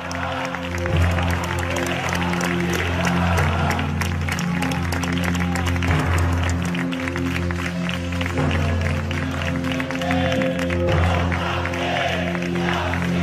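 A crowd applauds two hooded ETA militants after they lay a flag at a former site, scattered clapping mixed with crowd noise over a loud, sustained low drone and a voice speaking over it.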